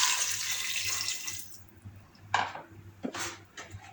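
Water is poured into a cooking pot with oil and onions, a gushing splash that tapers off, followed by a few light clinks of metal on the pot.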